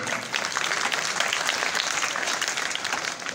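A crowd at a Quran memorization completion ceremony applauds warmly, a dense, steady clapping that fills the whole moment.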